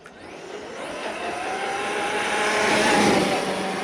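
An Arrma Outcast 8S EXB RC car drives down a street, its electric motor giving a steady, rising whine that builds in loudness and stays close and continuous.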